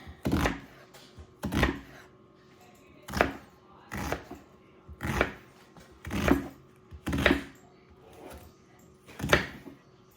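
A knife chops onion on a board in sharp, evenly spaced thunks, about one per second, close and clear against a quiet kitchen background.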